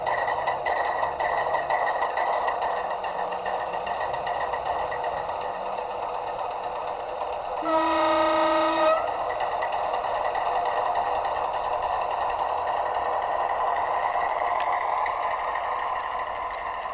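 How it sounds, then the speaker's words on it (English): A model locomotive's Mtronics sound unit plays a small canal boat engine sound, a steady chugging hum running throughout with a brief tonal burst partway through. "with this one we've gone with the small canal boat sound"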